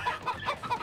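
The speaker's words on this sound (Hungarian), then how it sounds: "Ott is van egy csirke." Chicken clucking in the video game Moving Out, a run of four short, evenly spaced clucks, fairly close and clear, with no talking over them.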